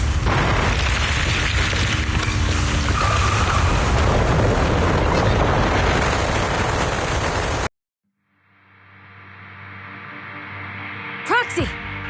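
A deep explosive rumble and boom from a ground-shaking impact in Zenless Zone Zero roll on loudly for several seconds, then cut to near silence before ringing tones and a sharp effect return.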